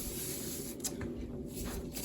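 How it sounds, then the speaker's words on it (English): Pam cooking spray hissing steadily into a bowl, a continuous close broadband spray lasting about two seconds at moderate level, with a low hum underneath. "I take a bowl and I spray it with Pam and set it aside"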